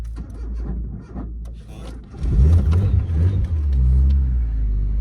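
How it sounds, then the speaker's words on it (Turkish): A Tofaş car engine cranks over, catches and rumbles to life, then settles into a loud, steady idle close by. "Aracımızı bir çalıştıralım."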